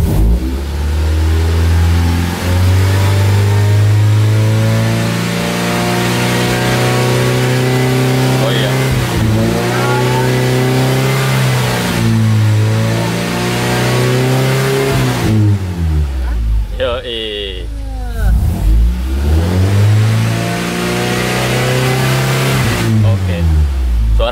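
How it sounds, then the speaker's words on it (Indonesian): A Honda Accord Maestro CB7 with a swapped VTEC engine revs repeatedly from a stationary position, close and loud, climbing and falling in several long sweeps with a harder-edged tone at higher revs, while someone talks over it. "Dan kita coba naikkan VTEC-nya di 3800. Mungkin akan lebih terdengar di RPM 3800."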